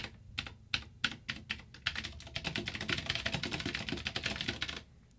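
Fast typing on a Vortex POK3R RGB mechanical keyboard: a few separate key clacks first, then a dense run of rapid clicks up close, stopping near the end. Nobody speaks.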